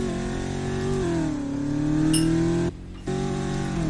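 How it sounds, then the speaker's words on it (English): A muscle car in the SRP pack for Assetto Corsa revs its loud, brash exhaust, the engine note climbing and holding before a brief cut and return, harsh and close. "That's an obnoxious exhaust note they got going with it."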